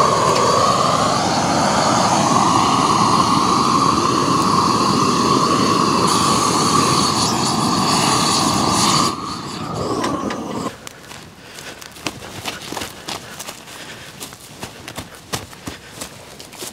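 A Weldclass blow torch flame burning weeds on a farm roars loud and steady at close range, then drops away after about nine seconds to quieter, uneven crackling and hissing.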